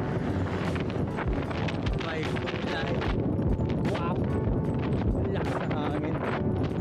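Strong wind buffets the microphone while cycling on a flat road in Batangas, a dense, loud, continuous roar filling the whole stretch, with a voice faintly under it.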